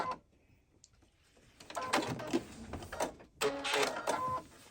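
Sewing machine stitching quilt pieces, a fast rattling run of needle strokes in two bursts after a quiet start, fairly close and moderately loud.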